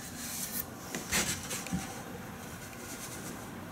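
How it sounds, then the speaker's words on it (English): Hand sanding cedar wood with 80-grit sandpaper: a continuous soft, close scratchy rubbing with rhythmic strokes and a few light knocks, no voices. "Using the 80 grit sandpaper as of right now, and you can already see how much more beautiful the cedar already is."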